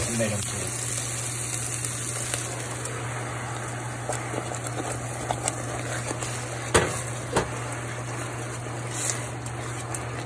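Steady broadband sizzling and hiss of onions frying in a pan, continuous and close, with a low hum underneath and a few soft clicks.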